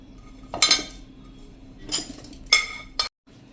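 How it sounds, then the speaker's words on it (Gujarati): Pieces of chilli dropped into a grinder jar for a coarse red chilli paste, making a few short clinking, rattling impacts at irregular intervals, fairly close and moderately loud, with no talking. "તો અત્યારે હું આમાં મરચાના પીસ નાખી દઉં છું।"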